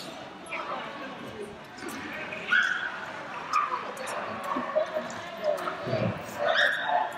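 Dog at the AKC Nationals Agility Championship warm-up, with short yips and whimpers breaking through over a noisy indoor crowd and nearby talk.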